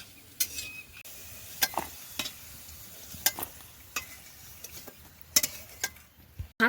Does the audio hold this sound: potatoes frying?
yes